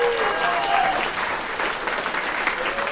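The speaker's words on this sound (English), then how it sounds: "Will you please give a big round of applause for Michael and Tessa and all the musicians and all the brewers?" Sustained applause from a concert audience for musicians and brewers at a classical music and beer event, dense steady clapping filling the room without pause.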